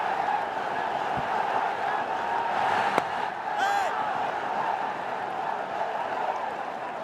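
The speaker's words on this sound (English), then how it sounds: "Let's listen to the crowd." A cricket stadium crowd at a Bangladesh versus Pakistan T20 international keeps up a steady, distant buzzing roar after two early sixes, a continuous wash of voices with brief whoops rising through it.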